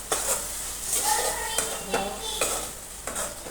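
Okra curry being stirred in a pan with chutney and garlic paste, a steady sizzle running under repeated scraping strokes of a spoon, close and moderately loud.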